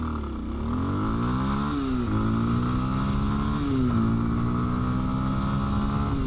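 A 2026 Kawasaki KLX230 Sherpa S dual-sport motorcycle climbing uphill on a 50 mph road in traffic, its single-cylinder engine droning close and steady with a couple of rising revs and gear shifts.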